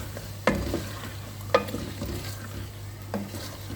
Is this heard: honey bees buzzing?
no